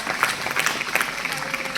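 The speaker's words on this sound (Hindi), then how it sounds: "तालियां बजाएं।" Students clap together at a school Independence Day assembly, a steady crackle of many hands with scattered sharper claps, fairly close and mixed with a voice speaking over it.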